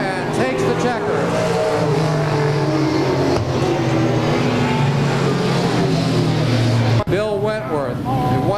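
Race car engines roar continuously at Claremont Speedway weekly racing, cars circling and passing close, with an announcer's voice talking over the loud motor drone throughout.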